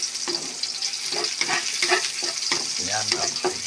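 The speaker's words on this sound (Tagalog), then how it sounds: "ginigisa ko na yung yung kalabasa" Kalabasa squash sautéing in a hot pan, a steady bright sizzle with repeated scraping stirs of a utensil every half second or so, close by and continuous throughout.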